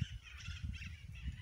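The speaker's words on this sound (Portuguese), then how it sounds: "Olha os pássaros." Birds calling outdoors near a fan palm tree, a few faint honking, cawing calls repeating over soft background hiss, distant and quiet.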